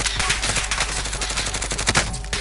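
Rapid bursts of automatic gunfire crackle through a Call of Duty match, dense and loud, with overlapping shots and no clear gaps.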